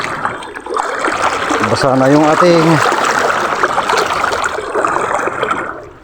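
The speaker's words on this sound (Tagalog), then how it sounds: "medyo malakas yung agos niya" Steady rushing water of a flowing river fills the background, with a person talking close by over the constant current.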